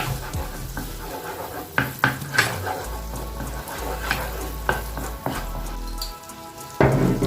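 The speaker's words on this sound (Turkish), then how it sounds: "Eriyen tereyağımızın içerisine Böyle bir yemek kaşığı domates salçamız ilave ediyoruz." A tablespoon of tomato paste sizzling and being stirred into melted butter in a pan for Adapazarı ıslama köfte, a steady crackling fry with scraping spoon strokes, close and without talk.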